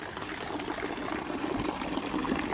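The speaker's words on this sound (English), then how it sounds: "And the fountain as well." Water pouring steadily from an old 1861 stone fountain in the old town square of Montreux, a continuous close splashing trickle with no talk over it.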